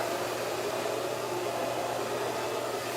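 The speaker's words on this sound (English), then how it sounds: "what I'm doing is just blow drying those babies where I want it to go" A handheld hair dryer blows steadily and loudly while hair is directionally styled into a sleek ponytail, a continuous close airy roar with no talking.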